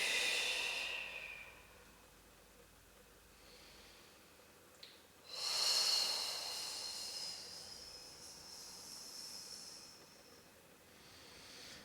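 Close breathing during a beginner pilates session: a short breath in, a pause, then a long, drawn-out exhale with soft airy hiss, and another breath starting at the end. No talking.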